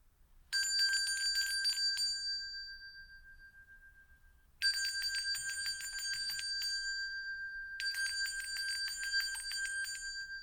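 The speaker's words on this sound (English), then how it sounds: "Let's go ahead and ring that bell." A bell rings three times, each strike a bright, sustained metallic tone that lingers and decays before the next, heard clearly on its own with no talking.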